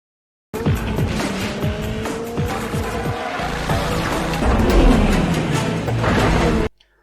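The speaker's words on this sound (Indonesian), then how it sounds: "Brian segera tancap gas untuk menangkap pelakunya, disusul oleh Dom menggunakan mobil kudanya" Cars racing in a Fast & Furious street chase scene, engines roaring with repeated tire squeals and skids, loud and continuous with a rising burst near the end and no talk.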